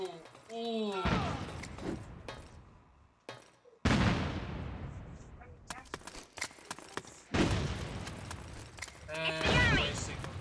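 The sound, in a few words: grenade explosions and gunfire in a video game (Metal Gear Online)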